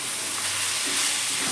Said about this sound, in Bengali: এই সময় আমি দিয়ে দিচ্ছি আলু।